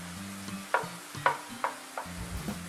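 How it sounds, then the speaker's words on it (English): Ground beef browning in a pan, a soft sizzle under a series of spatula scrapes and taps roughly every half second, close with no talk. "And you just brown your meat until it's thoroughly cooked."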